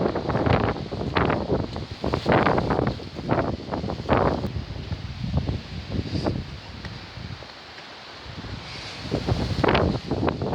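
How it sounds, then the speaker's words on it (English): High wind gusting outdoors in Essex, UK, with heavy buffeting against the microphone and rustling leaves, rising and falling in strong surges with a short lull near the end. "Feel that wind"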